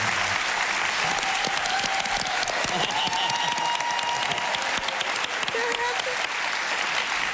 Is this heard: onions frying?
no